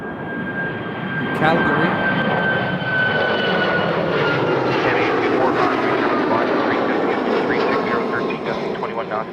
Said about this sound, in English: WestJet 737 MAX 8.